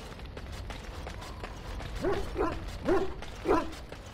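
A dog in Dragon Age: Origins gives four short barks in the second half, fairly close and clear over a soft background hum.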